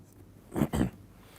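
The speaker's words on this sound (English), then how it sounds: "we can start to write down the wave equation" Chalk or pen writing the wave equation on a board during a lecture: two short, quiet scratching strokes in quick succession in an otherwise hushed room.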